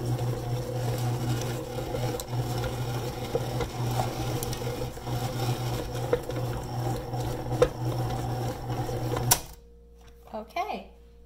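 Chocolate chip cookie dough being mixed by hand in a bowl, a steady scraping and stirring texture under a constant background hum, then abruptly stopping near the end as a few faint sounds follow.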